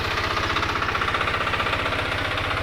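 An articulated 4x4 mini tractor's engine runs close by with a fast, steady, throbbing chug, loud and continuous with no talk.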